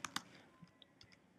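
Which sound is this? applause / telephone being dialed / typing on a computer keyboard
typing on a computer keyboard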